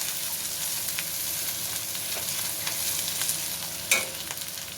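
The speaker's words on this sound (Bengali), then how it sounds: "ভালো করে কষিয়ে নেব আবার" Masala for a thin katla fish curry being sautéed in a pan with chilli powder, a steady close sizzle broken by scraping spatula strokes and one sharper clank near the end, with no talking.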